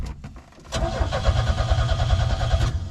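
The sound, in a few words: 1987 Chevy S-10 fuel pump priming and engine cranking over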